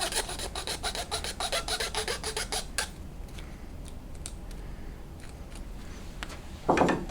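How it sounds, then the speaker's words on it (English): A small file shaves excess material off a freshly cut semi-frameless door sweep with quick, rhythmic rasping strokes for about three seconds, followed by quiet handling taps and a brief rustle. "Any cleanup from the cut not being exactly clean can be taken care of with a small file. Just simply kind of shave off the excess."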